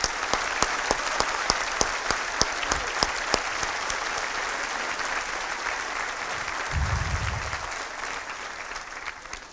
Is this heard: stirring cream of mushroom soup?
no